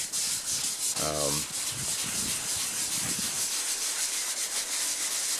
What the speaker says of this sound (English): started sanding the whole thing down while it was dry